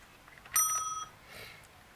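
A single strike on an Art Deco bell rings out once, bright and clear, then fades over about half a second in a quiet room.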